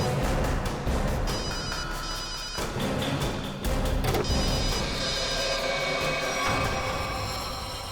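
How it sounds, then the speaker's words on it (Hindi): A phone rings continuously over a busy, noisy background, its trilling tone steady and fairly loud throughout. "रिंग तो बज रही है।"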